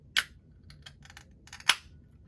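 A bottle of Grand Armory Year Round Brown beer is opened, with a sharp snap of the cap followed by faint clinks and rattles and then a second crisp snap.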